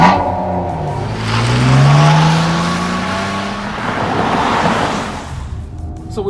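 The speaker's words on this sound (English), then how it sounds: "Let's crank her up and take her for a ride and see for ourselves." A 2021 Nissan Maxima 40th Anniversary Edition sport sedan engine rises in a revving sweep and then holds a steady, fairly loud drone, with road and wind noise around it and no talk.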